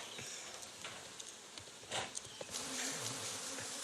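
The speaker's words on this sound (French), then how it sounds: "les abeilles mécontentes pourraient tenter de récupérer leur butin" Honeybees buzz around an opened beehive during a honey harvest outdoors, a loud dense continuous hum of many insects with individual bees droning past close by.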